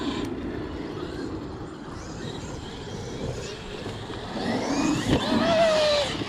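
A car engine revs up and climbs in pitch once the wheels lose contact with the ground, a rising whine building toward the end over steady mid-range engine noise.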